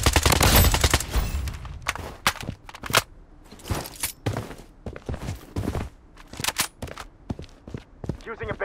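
Vector and Scar gunfire in Blood Strike: dense bursts of rapid shots and scattered single cracks, loud and close, broken by footsteps, with a voice calling out between volleys.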